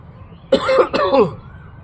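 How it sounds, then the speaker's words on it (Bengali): A single person coughs once with a harsh, throaty catch. It is a close, short burst that breaks into two parts and then trails off into quiet. "কাশি কবে যে ঠিক হবে।"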